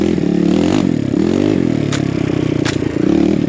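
A BBR KLX170 dirt bike rides a snowy trail, its engine buzzing loud and close with steady revving and slight pitch swells, plus a couple of brief scrapes, with no talk.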